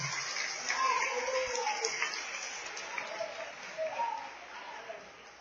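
A church congregation applauds during a Sunday worship service, a dense, steady wash of clapping that fills the room, with voices mixed into the clatter.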